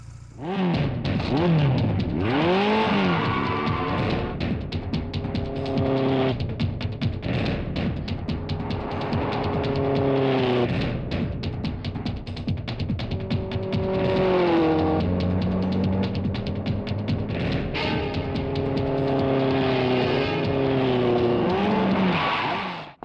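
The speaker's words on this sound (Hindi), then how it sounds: "ड्राइवर गाड़ी चलाओ।" A car drives hard in a movie scene, its engine loud and close, revving up and down in repeated surges across a long stretch with no talk over it.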